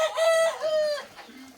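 Local farm chickens in Dhemaji, Assam give a close, loud crow in two drawn-out rising calls, then fall back to a low cluck.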